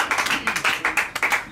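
A few people clap in a bookshop in Geneva during a poetry event, a brief series of close, crisp claps in an uneven rhythm, fairly loud and without talk.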